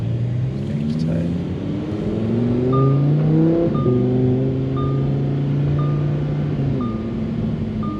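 The engine of a 2018 Lamborghini Huracan with an aftermarket exhaust rises and falls in pitch through several rev sweeps, heard up close. A faint, regular electronic beep sounds intermittently over the engine.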